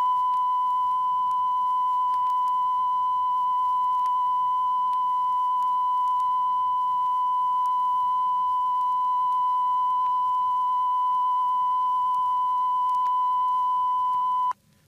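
A steady 1,000-cycle CONELRAD radio alert tone, one loud continuous pure pitch held without a break for about fifteen seconds before it stops abruptly.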